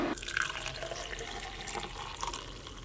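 Hot water poured into a mug for black coffee in a van kitchen, a close, steady trickle with light drips running continuously at moderate level.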